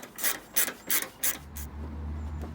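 Ford Focus headlight unit being worked loose and pulled from its housing after the plug and two 10mm bolts are removed: four short plastic rasping, scraping bursts close by, followed by a low steady hum.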